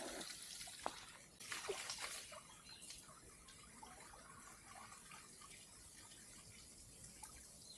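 Spring water trickles and drips outdoors on a winter cycling trip, a faint, steady liquid babble with a few brief splashes near the start.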